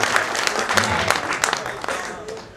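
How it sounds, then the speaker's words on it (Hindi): A Hindi comedy poetry gathering breaks into loud audience applause, dense clapping from a crowd that stays strong before gradually tapering off. "एक बार जोरदार तालियां बजाइए"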